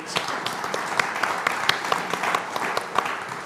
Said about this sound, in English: Can we give Nick another round of applause for his cracking speech?